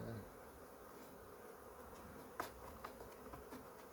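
Honey bees buzz around an open hive during colony merging, a faint steady hum with a few brief louder passes as individual bees fly close, no voices.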